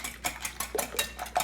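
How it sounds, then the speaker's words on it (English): Eggs being whisked in a bowl for an Italian frittata make quick, close metallic clinks and taps in an uneven rhythm, fairly soft, with no one talking. "The whisk is actually incorporating some air into it."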